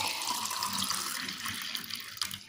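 Water runs from a kitchen tap into a tea pot being washed, a steady close hissing splash that continues throughout with no talk.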